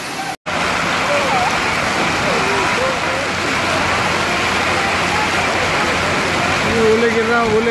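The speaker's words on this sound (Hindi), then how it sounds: "इतने बड़े बड़े ओले गिर रहे हैं।" Large hailstones pelting down in Ajmer, making a dense, continuous roar of clattering impacts that runs almost the whole time, with faint voices underneath.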